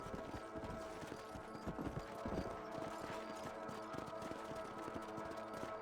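Horse hooves clip-clopping at a steady riding gait in the Western video game Red Dead Redemption, a continuous rhythmic beat that stays fairly loud throughout, with no talk.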